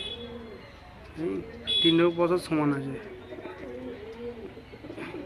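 Pigeons of a line bred for sale at Behala, cooing in short throaty bursts close by, while someone talks over them.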